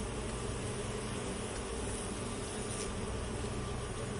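A steady, even buzzing drone like many bees humming together, continuous and moderately faint throughout, with no voices.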